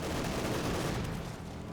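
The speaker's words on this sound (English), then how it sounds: "Panzer IV turns around, gonna take some shots at the Guard rifle" Dense, continuous battle gunfire in the Company of Heroes 2 strategy game as a Panzer IV fires at Guard rifle infantry, with overlapping shots and explosions forming a steady roar.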